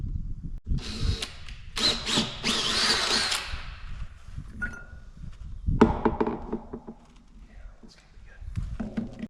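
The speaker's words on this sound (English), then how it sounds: "So this is a 2 3/4 inch hole saw bit" A power drill with a 2 3/4 inch hole saw bit cuts a hole in a septic riser, sounding in two close bursts of whirring and grinding separated by quieter handling noises and talk.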